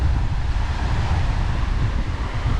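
Steady wind buffeting a microphone on the coast of Antique, Philippines, a low, dense rumble with a soft ocean wash beneath it, continuous and fairly loud with no voices.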